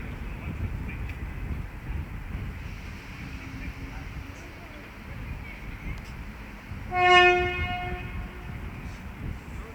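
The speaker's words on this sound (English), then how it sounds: "378-222 is departing with the 1401 London Overground service from Watford Junction to London Euston" A London Overground class 378 electric train departs Watford Junction, its steady low rumble building, with a loud, harmonically rich horn blast around the seventh second before the rolling noise continues.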